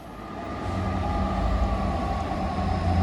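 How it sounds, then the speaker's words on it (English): Freight train on a railway line, a Tesco supermarket service, rolling past as a steady broad rumble with low engine drone, loud and close throughout without pause. "it's the Tesco train"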